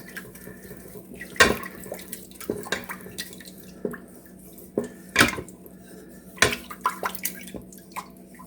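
A spoon stirs Mongolian beef inside an Instant Pot, producing scattered sharp metallic clinks and taps against the pot at irregular intervals, close by over a quiet background without talk.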